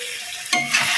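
Spinach and fish-head chorchori sizzles in oil in a pan, a steady close frying hiss with a brief stir or clink midway.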